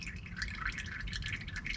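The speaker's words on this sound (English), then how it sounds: "How long do you guys let your oil drain for?" Engine oil dripping steadily as it drains from a car, a close, quiet patter of irregular drops with no talk.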